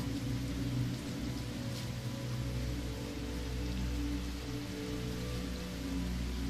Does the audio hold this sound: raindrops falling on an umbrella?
yes